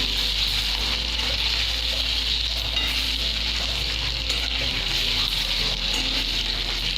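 Paneer frying in hot oil with the oil spattering: a steady, close, continuous sizzle with a faint low hum underneath and no talking.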